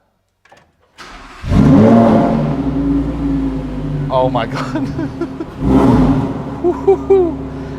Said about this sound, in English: You press the start button and just listen to that sound.